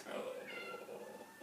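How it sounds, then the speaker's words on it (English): A cat meows faintly indoors, in a drawn-out tonal call, with voices in the background. "that's my cat. He's meow."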